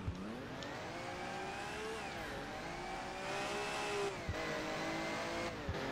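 A car in the Alarm für Cobra 11 video game drives with a loud, steady engine whine whose revs rise and drop as it brakes and accelerates, with a few brief knocks and no speech.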